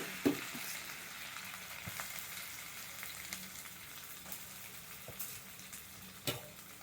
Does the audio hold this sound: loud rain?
no